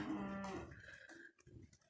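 Cattle in a steer pen low with one long, deep moo that trails off, heard at moderate distance over faint background sound.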